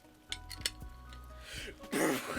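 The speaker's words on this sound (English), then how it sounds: "Right, now slam a cup down." A cup slammed down on a table, giving a sharp clink and clatter of dishware, followed by a brief burst of rattling noise, fairly close and loud with no talk.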